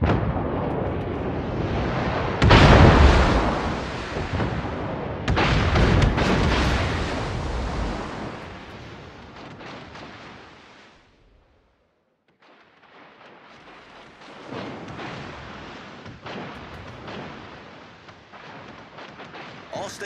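Warship guns boom and rumble in close-range naval combat in World of Warships, heavy blasts and shell impacts around the middle, then a quieter stretch before a rougher barrage of crackling fire and rumble resumes.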